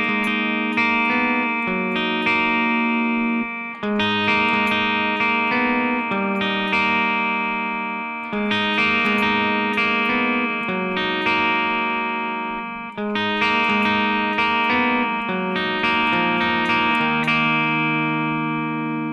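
Electric guitar plays the slower breakdown of the bridge from a song, sustained ringing chords with effects repeating in phrases of about four seconds, loud and alone.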